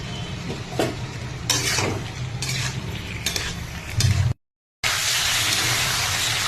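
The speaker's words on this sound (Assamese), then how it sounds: "এনেকৈ খুব ধুনীয়াকৈ একদম ফ্ৰাই কৰি দিম" Boiled chicken frying in a pan with green chillies, soy sauce and capsicum, heard as a loud close sizzle with repeated scraping stirs and utensil clinks, then a brief silence before the sizzling returns.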